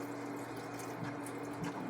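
Water pours steadily into a cooking pot, a continuous close gurgling wash over a faint background hum with no talking.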